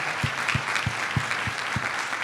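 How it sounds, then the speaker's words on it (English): Steady applause from a morning audience at a women-in-motorsports panel, a close, continuous wash of clapping with a few low thumps running through it. "Can we get a round of applause for the panel?"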